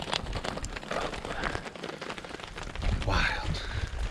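Hail pelts down hard and steadily during a storm at Trinidad Lake State Park in Colorado, a dense rattling wash with louder bursts and faint movement nearby.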